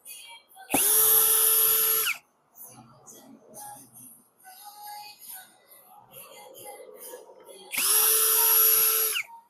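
A 7-inch DCA angle grinder with a noisy bearing spins up loudly, runs with a harsh high-pitched grinding whine, then cuts out; after a stretch of quieter clattering and faint sounds, it roars again.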